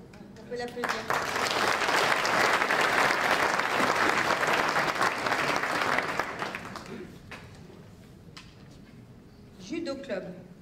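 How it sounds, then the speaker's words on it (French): Audience applause fills a town hall awards ceremony, a dense sustained burst of clapping for about six seconds that fades out, then a brief smaller round near the end. "On peut l'applaudir."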